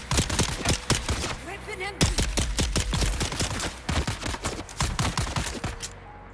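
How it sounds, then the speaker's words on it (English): Dense, rapid gunfire from the video game Dune: Awakening crackles continuously at close range, with overlapping shots and a loud, steady rattle. "Hold still while I'm trying to shoot you in the face."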